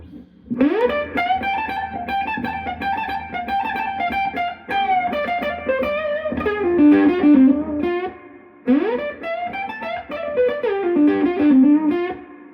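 Distorted electric guitar plays fast pentatonic licks, with bends and sustained notes, loud and continuous, in two phrases separated by a brief pause.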